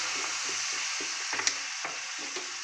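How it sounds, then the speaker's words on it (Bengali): Vegetable curry sizzles steadily in a hot pan as a little water goes in, giving a constant bright frying hiss with a few small pops and crackles. No one speaks. "এবার আমি একটু সামান্য জল দিয়ে দেবো।"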